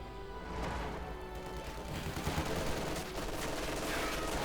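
Machine gun fire crackles in a Company of Heroes 2 battle, with dense overlapping bursts and scattered shots forming a continuous loud fusillade.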